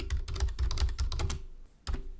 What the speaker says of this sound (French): Donc par exemple, je tape